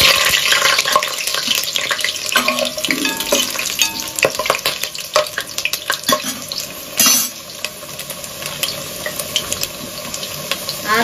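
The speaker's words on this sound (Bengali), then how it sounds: "তেলটা ভালো করে গরম হয়ে গেছে। এর মধ্যে আমি 3টে আলু অর্ধেক করে কেটে নিয়েছি, সেই 3টে আলুকে আমি দিয়ে দিলাম।" Three halved potatoes sizzle in hot mustard oil, a steady loud frying hiss broken by clattering stirring and pan scrapes throughout.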